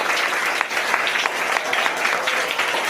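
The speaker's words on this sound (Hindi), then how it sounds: "तो सभी बच्चे ताली बजाकर हमारे बीच उपस्थित" A group of schoolchildren clapping steadily together, dense and continuous applause filling the room with no talking over it.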